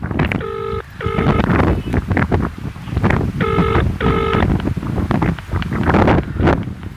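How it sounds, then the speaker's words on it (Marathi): A ringback tone plays on an outgoing phone call to an electricity board engineer, sounding in two pairs of pulsed rings against steady wind and outdoor noise in a village field. "फोनची रिंग चाललेली आहे"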